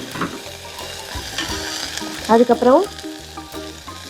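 Onion and curry leaves sautéing in a hot pan for rasam, a steady sizzle and crackle with a louder spitting burst midway and a few clinks of the spoon. One short spoken word over the frying.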